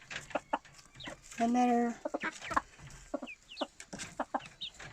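A chicken clucks in a shed, with short scattered clucks and a brief drawn-out call, close but soft, mixed with a person talking quietly.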